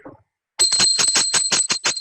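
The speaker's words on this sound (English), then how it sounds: "please ring the bell as you do so" A small ritual hand bell rings steadily during an arati offering to Devi Parashakti, a rapid run of bright, ringing strikes after a brief quiet start.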